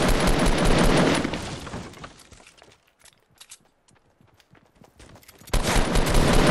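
Gunfire in Fortnite Battle Royale, including a shotgun: dense, loud bursts of shots open the stretch, fall to sparse faint pops, then return hard and sustained at the end.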